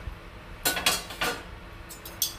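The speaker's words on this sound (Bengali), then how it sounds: "10 মিনিট পর ঢাকনা খুললাম" A metal pot lid lifted off a pot of cooked pulao, giving a few close, sharp clinks and scrapes over about a second, then one more light clink, with no talking.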